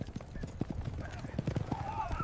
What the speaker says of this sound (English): Horses snort.